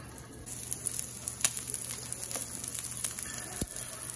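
Ribeye steak sizzles on a Blackstone 17-inch E-Series electric griddle set to 425, a steady close crackling hiss with scattered pops and spits throughout.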